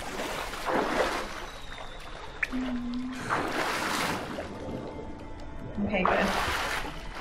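Splashing and wading as a character moves through water in The Witcher 3 elven ruins, a steady wash of game sound running under near, continuous talking.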